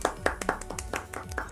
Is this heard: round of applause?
yes